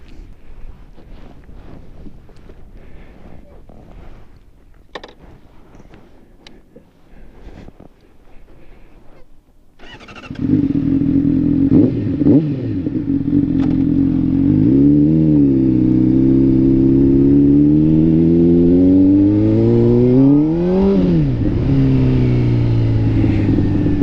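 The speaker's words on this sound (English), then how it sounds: "let's go ahead and hop on this bike and check out these new tires" A Honda CBR motorcycle on new tires, quiet handling noise at first, then a loud close engine with wind rush as it rides off, the pitch climbing and dropping through several gear changes.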